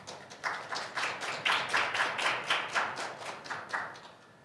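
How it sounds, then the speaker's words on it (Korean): A forum audience gives light, moderately distant applause as the opening speaker is welcomed. A thin patter of claps with a loose pulsing rhythm runs for a few seconds, then tapers off. "큰 박수로 맞아주시기 바랍니다."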